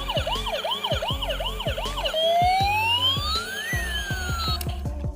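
Toy ambulance siren wailing in repeated rising-falling sweeps, then switching to a slower single rising and falling tone, loud and close, with rhythmic clicking toy beats underneath and no talk.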